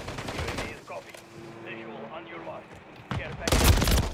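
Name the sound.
gunfire in the video game Call of Duty Modern Warfare III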